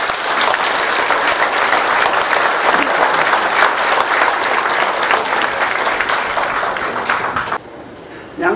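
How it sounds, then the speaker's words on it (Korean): Crowd applause at the opening of a county governor candidate's campaign office in Yangpyeong, dense steady clapping that holds close and loud for about seven and a half seconds before dropping away abruptly. "박수 한번 쳐주실래요?"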